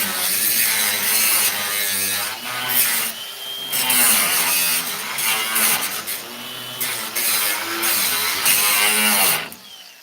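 A cutoff disc grinding into a metal patch over a hole in a road, a loud, continuous rasping whine that rises and falls in pitch and bites harder at moments, running almost the whole time before stopping near the end.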